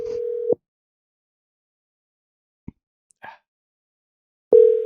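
A telephone line gives interrupted tone bursts, one at the start and one at the end with silence between, broken only by a couple of faint clicks as an unanswered call fails to connect.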